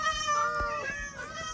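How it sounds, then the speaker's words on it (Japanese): Several cats in the Minecraft video game meow repeatedly in quick overlapping calls, near and fairly loud, with a faint voice briefly underneath. "猫めっちゃいる"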